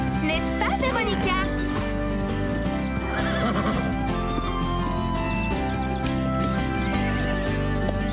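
A horse in a riding-school cartoon neighs in several sharp whinnies over steady clip-clopping hooves and a background music bed, with voices speaking.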